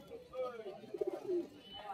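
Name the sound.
Kala Sabuj pigeons at Galiff Street pigeon market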